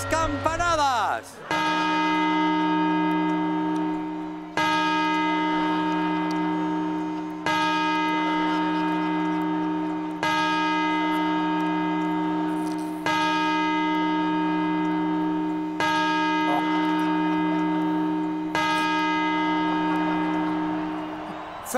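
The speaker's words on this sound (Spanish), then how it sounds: "Y ahora las campanadas." A deep church bell tolls the New Year midnight strokes steadily, about one stroke every three seconds, each ring sustaining and overlapping the next, loud and close.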